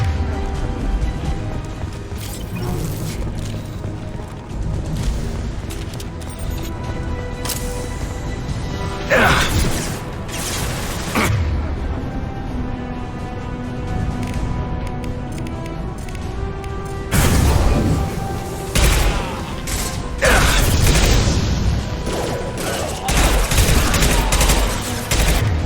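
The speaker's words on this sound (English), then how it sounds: "Firing a high impact shot." Rapid gunfire fills a Mass Effect 2 firefight on Omega, dense overlapping shots and bursts with impacts and booms running continuously, loud and close throughout.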